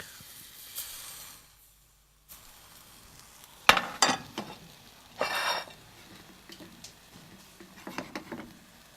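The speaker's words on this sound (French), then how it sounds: "Vous versez la pâte et vous faites cuire." Crêpe batter sizzles in a hot pan, with bursts of crackling hiss rising and fading between quieter stretches and a few sharp clicks.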